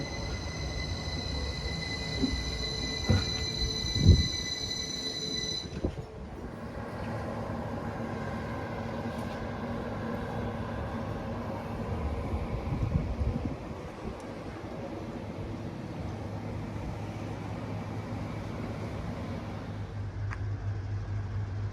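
A train runs on the railway at Saltaire station, with a high metallic squeal and tonal whine early on, then a steady rolling rumble and low hum as it carries on at moderate distance, without voices.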